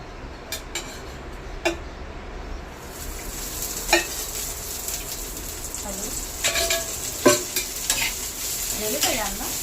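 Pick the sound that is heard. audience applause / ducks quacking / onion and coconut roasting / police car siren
onion and coconut roasting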